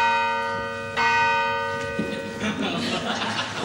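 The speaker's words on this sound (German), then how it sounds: "Da hat der Glocken geläutet." Stage church bell sound effect in a Bavarian folk theatre comedy: resonant tolls strike and ring out with long sustaining hum, followed by audience murmur and chuckling.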